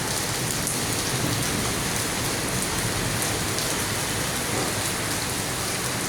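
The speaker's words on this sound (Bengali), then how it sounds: "আজকে ঢাকাতে বৃষ্টি হচ্ছে" Steady rain pours down and patters on surfaces in Dhaka, an even, unbroken hiss throughout with no voices.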